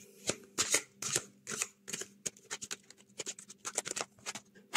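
Oracle cards are shuffled for a reading, a close run of quick irregular riffles and soft slaps with small gaps, quiet and with no talking.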